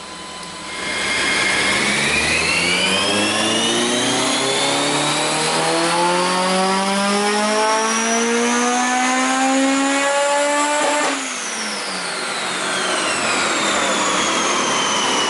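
Supercharged Honda S2000 engine on a dyno, revving hard through the rev range with a rising VTEC wail that climbs steadily for about ten seconds, then drops sharply as the throttle lifts and settles back, loud and close.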